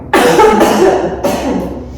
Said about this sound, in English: It's just dry cough,